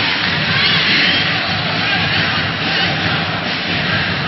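A volleyball arena crowd roars in a dense, continuous wash of cheering for Meralco during a close match, loud and constant throughout.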